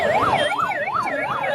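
An ambulance siren wails through a bandh protest crowd in Lokapur, its rising and falling tone cycling steadily and loudly up close, with no speech over it.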